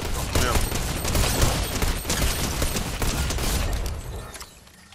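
Fortnite gunfire rattles in a sustained, loud volley of overlapping shots that fades away near the end. A player talks faintly under it.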